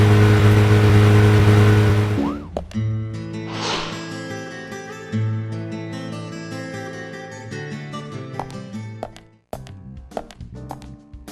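A car drives in the video game Deadly Premonition, a steady mid-pitched engine hum with some shifts in pitch, loud at first, then lower and steadier with a few clicks.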